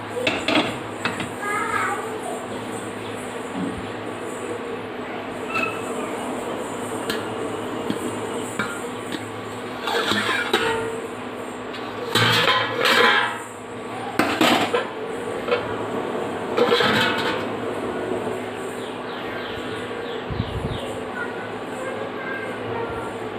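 The lid and cloth come off a pot of dum-cooked mutton biryani, with scattered metallic clanks and scrapes of utensils that cluster into louder bursts midway over a low background hum.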